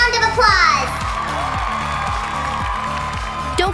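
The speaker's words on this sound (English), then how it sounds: "let's welcome our crafts with a big round of applause" Applause and cheering from a crowd of children welcoming finished crafts, with a burst of loud clapping at first that settles into steady, dense applause layered over bright background music.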